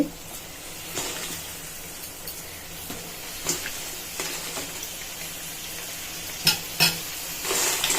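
Crab pieces stirred in sizzling masala in a pan, a steady frying hiss with intermittent scraping and clinking stir strokes, a few sharper clatters near the end.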